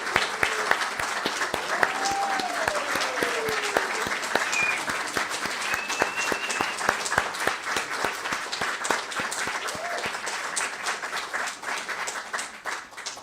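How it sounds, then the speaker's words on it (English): A congregation gives a long round of applause, many hands clapping in a dense, steady rhythm with crisp individual claps, loud and close, and a couple of brief whistles or cheering voices rising above it. "Let's give them another round of applause."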